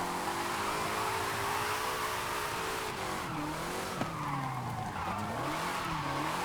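Continuous tire skidding and squeal from a car drifting in Forza Horizon 5, with engine tone rising and falling through the slide, steady and loud throughout with no talking.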